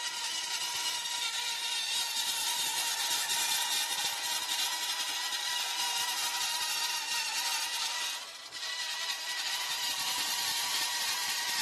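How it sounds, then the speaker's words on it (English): A power drill whines continuously in a garage, a steady loud high-pitched buzz that dips briefly once before resuming at full speed. "I think he's going to be done with that drill."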